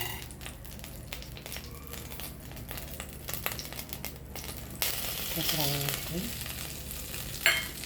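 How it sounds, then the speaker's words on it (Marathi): Dense crackling sizzle of semolina frying in ghee, with a stirring scrape partway through; steady and close, with a brighter burst near the end. "तूप आणि रवा त्याला चांगलं फ्राय करून घेणार आहे"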